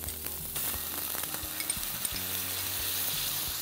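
Ginger garlic paste and chili sauce sizzling in a pan, a steady close hiss broken by frequent spatula scrapes and taps; no talking.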